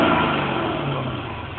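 A Mercedes CL 500 with Lorinser K50 styling revs through its exhaust, giving a close, loud mid-range engine drone that rises at the start and then eases down steadily over a second and a half.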